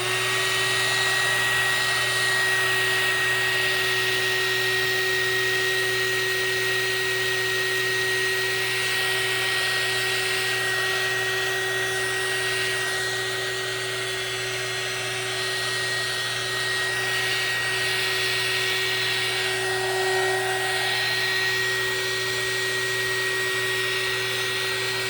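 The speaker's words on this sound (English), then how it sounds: "I am gonna heat gun it to get my bubbles out" A heat gun blows steadily over fresh resin poured into a wooden tray geode to pop surface bubbles, a continuous close airy whir with a faint tonal hum lasting throughout.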